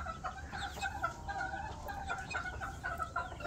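Hens cluck continuously in a chicken coop, a steady overlapping chorus of short, repeated calls from several birds at close range, with no voices.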